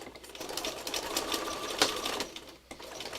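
A sewing machine stitches a quilt in a steady mechanical run of needle strokes, close and moderately loud, with no talking.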